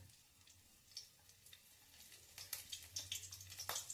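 Green chillies frying in hot oil in a pan, a soft steady crackle that grows busier and louder toward the end, with bright spits and pops near the close.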